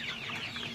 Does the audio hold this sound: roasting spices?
no